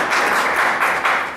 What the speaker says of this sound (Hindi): एक बार मैं चाहता हूँ इनके लिए जोर से तालियों से इनका स्वागत करूँ।